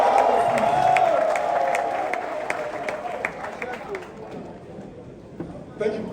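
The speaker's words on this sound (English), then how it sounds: "Round of applause to you guys." An audience at a forex trading expo, the Forex Millionaire Expo, claps and cheers in a dense burst that fades over several seconds, with a voice over the start.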